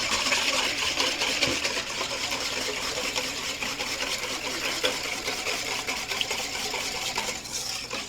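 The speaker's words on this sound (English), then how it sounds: "You want to whisk that really well to make sure the sugar dissolves in there." Whisking eggs into a sugar, milk and vanilla mixture for a brioche casserole, a fast continuous rattling clatter of the whisk against the bowl, steady and close for the whole stretch.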